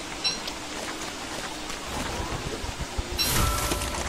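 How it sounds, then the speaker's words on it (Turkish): Continuous rain hisses in the video game Don't Starve: Reign of Giants, a steady wash of falling water with a brighter surge near the end. "Yağmur da ne biçim yağmur ya, yağıyor."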